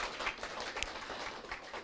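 A seminar audience applauding a lecturer, brief moderate clapping from many hands in a hall, continuous and fairly faint, with no voices over it.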